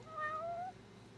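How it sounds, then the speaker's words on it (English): A cat in the video game Judgment gives a single clear meow, close and fairly soft, fading out into quiet. "That's no pigeon. That's a cat."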